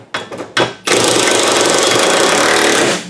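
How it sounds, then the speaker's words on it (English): Impact gun driving the gas tank strap bolts on a 2004 Chevrolet Cavalier / Pontiac Sunfire: two short bursts, then one long sustained loud rattling hammer run of about two seconds that cuts off, with no talking. "So now with both of them started, we can gun them up."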